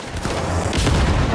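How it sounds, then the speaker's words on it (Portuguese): A grenade blast in the video game Cyberpunk 2077, a loud booming burst that swells and rumbles for about a second, heard alone without talk. "Granada."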